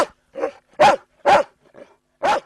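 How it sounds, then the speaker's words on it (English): A mongrel dog barks about six times in a loud, close, uneven series, with short silent gaps between barks and a couple of softer yips among them, with no talking. "Meg's a dog in good voice."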